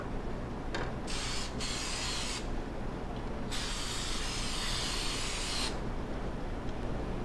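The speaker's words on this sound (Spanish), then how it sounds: "vamos a echar el spray desmoldante a los moldes antes de echar la mezcla" Release-agent spray hissing onto cake pans in a bakery kitchen before batter goes in, a steady close broadband hiss running through the whole stretch with a few brief pauses and shifts in intensity.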